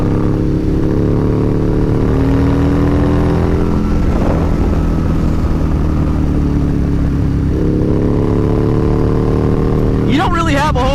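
A Harley-Davidson V-Rod motorcycle with a wide rear tire accelerates hard, its engine droning loud and steady with rising pitch sweeps as it runs through the gears, and a rider talks over it.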